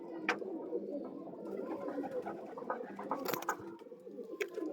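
A breeding pair of Zeria pigeons coos continuously in a steady low rumble, close by, with a few sharper clicks and rustles mixed in.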